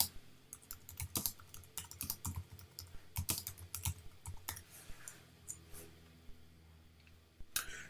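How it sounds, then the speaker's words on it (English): Someone types an address on a computer keyboard in uneven bursts of crisp, close keystrokes with short pauses between the words. "Simply just type in your address."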